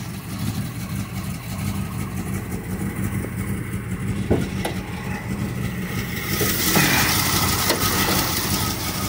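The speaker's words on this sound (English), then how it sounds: "Has original 304 engine in it." A 1976 International Scout II with its original 304 engine idles up close in a steady, loud low rumble, with a few sharp clicks partway through and a brighter hiss that rises near the end.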